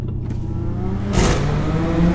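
A 650 hp Chevrolet Camaro ZL1 exhaust drones steadily up close, then swells into a louder, raspy burst as the driver downshifts, holding a deep rumble afterward.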